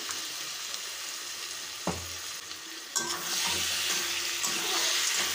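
Boiled mutton is stir-fried in a spice masala, giving a close, steady sizzle. A couple of sharp knocks are heard, then a splash-like surge as the frying grows louder and more watery toward the end.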